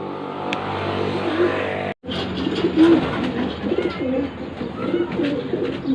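Domestic pigeons coo in a loft holding stock hens, their soft rolling calls steady and close over continuous background noise, with a brief cut partway through.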